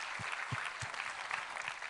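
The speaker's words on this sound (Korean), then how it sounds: "우리 하나님께 감사와 영광의 박수를 드리겠습니다" A church congregation claps together in steady, fairly quiet applause, a dense wash of hand claps with a few louder individual claps standing out, held at an even level throughout.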